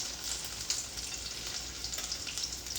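Spanakopita patties fry in a pan with a steady, dense sizzle and crackle, close and continuous with no voices.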